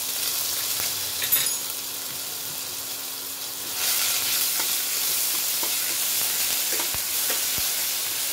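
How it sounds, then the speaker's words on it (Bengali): Ginger and green chili paste sizzles in hot oil with whole cumin, a steady close frying hiss with occasional stirring scrapes that grows louder and brighter about halfway through; nobody speaks. "প্রথমে আমি এই আদা আর কাঁচা লঙ্কা বাটাটা দিয়ে দেবো।"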